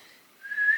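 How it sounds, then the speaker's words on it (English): A person tries to whistle indoors, producing a faint breathy start that turns into a brief, thin, wavering whistle tone lasting under a second. "Why can't I whistle?"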